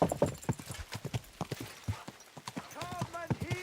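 Video game sound: rhythmic clip-clop of horse hooves on hard ground, steady and close, with someone talking over it and a brief whinny near the end.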